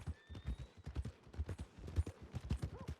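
Horse hooves clip-clop steadily on the ground in the Red Dead Redemption 2 video game, an even rhythmic trot of close, dull thuds with a faint tonal game sound in the background.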